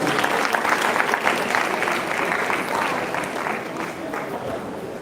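An audience at an award ceremony applauds, dense sustained clapping from many hands at full strength, easing slightly toward the end.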